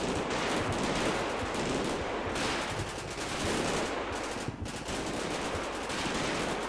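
Sustained rattling machine gun fire in the Combat Mission: Battle for Normandy war game, dense rapid bursts overlapping with other gunfire, loud and continuous throughout with no talking.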